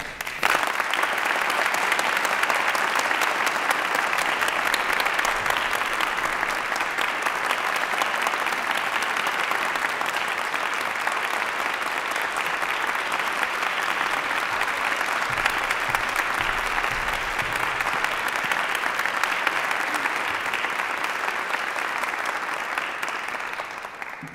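A steady, sustained round of audience applause fills a hall at an award ceremony for a young Persian artist. The clapping stays even and full from start to finish, then tapers slightly at the end.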